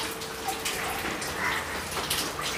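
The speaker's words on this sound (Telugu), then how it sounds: "దొడ్డి పడతానే ఉంది వర్షము." Heavy rain keeps falling while water flows into a house, a close continuous watery wash with scattered drips and splashes.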